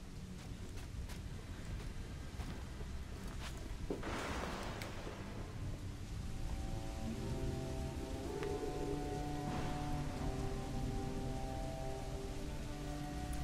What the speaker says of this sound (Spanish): Otra super lluvia.